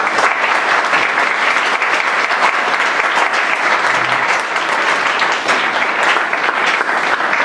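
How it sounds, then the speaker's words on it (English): Sustained applause from an audience honoring award recipients at an evening ceremony, a dense, steady wash of many hands clapping together with no breaks. "Let's give them another round of applause"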